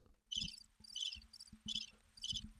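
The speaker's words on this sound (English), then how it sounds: "Crickets?" Cricket chirps in four rhythmic bursts, each a quick trill of pulses, played as a comedic sound effect over a low background hum with a few soft knocks.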